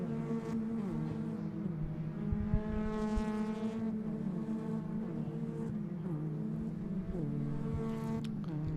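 Ford Fiesta ST race cars circuit racing at a round of the ICCR 2024 series, engines droning steadily at mid distance with several rising and falling gear changes and overlapping passes throughout.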